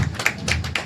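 Hand claps for the Dibrugarh Warriors team anthem at a cricket league event, three sharp separate claps close by over a low background hum.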